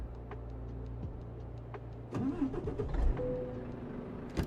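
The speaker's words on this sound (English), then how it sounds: "Engine?" Vehicle engine starting in a Volvo driving simulator game: a quiet idle with faint ticking, then a cranking surge and a low engine rumble that settles, alone with no voices.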